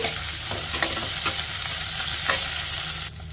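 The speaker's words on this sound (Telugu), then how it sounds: "ఇప్పుడు మీడియం ఫ్లేమ్లో ఇలా కలుపుకుంటూ ఒక నిమిషం ఫ్రై చేసేసుకోవాలి" Coriander seeds and cumin frying in a pan over medium flame while being stirred, a steady close sizzle with scraping strokes through it, stopping abruptly near the end.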